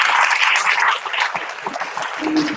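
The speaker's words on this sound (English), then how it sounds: "So a round of applause to all our friends" Short burst of audience clapping at a dramatized reading event at an arts festival, a brisk round of applause that softens slightly midway, with no voices over it.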